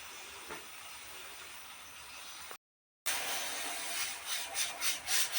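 A pressure cooker vents its whistle while cooking khara pongal: a loud, steady rushing hiss of steam, briefly cut off, then resuming stronger with rhythmic pulsing surges toward the end.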